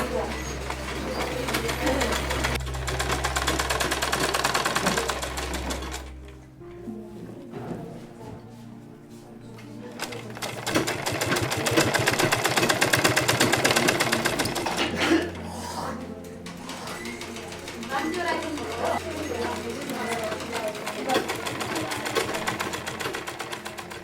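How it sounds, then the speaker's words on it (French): A sewing machine runs in a steady low hum at a vocational training setting, with music and voices layered over it for much of the stretch. "a reçu une machine à coudre"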